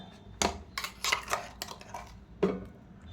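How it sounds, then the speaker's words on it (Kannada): Ground masala paste is mixed into fish pieces for a Mangalorean fish fry, giving a few sharp clinks and scrapes of utensil against a bowl with quiet gaps between them. "ಮೀನಿಗೆ ಹಾಕಿ ಮಿಕ್ಸ್ ಮಾಡುವ"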